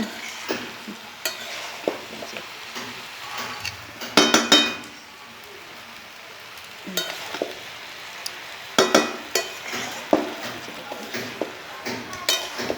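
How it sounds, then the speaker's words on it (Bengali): A spoon stirs fish head through a pot of mixed vegetables, scraping and clinking against the metal in scattered bursts over a soft sizzle, with a louder run of clatter partway through. "মাছের মাথাটা দিয়েছি, দিয়ে ভালো করে নেড়ে ছেড়ে আবার ঢেকে দেবো।"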